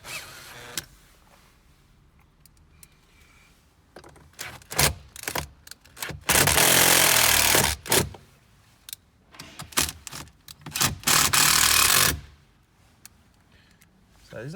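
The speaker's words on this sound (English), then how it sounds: "This is just this drill that has a driver on it." A cordless drill driver runs in short bursts and one longer whir, driving mounting screws for a Kenwood stereo in a Nissan Navara D40 dash, between clicks and rattles of handling, with no speech.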